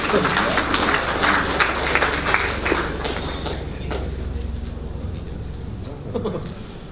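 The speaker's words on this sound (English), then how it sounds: "Round of applause for that one." An audience at a PAX Australia game trivia event claps: a dense burst of applause fills the first few seconds, then thins out and fades under murmuring crowd noise.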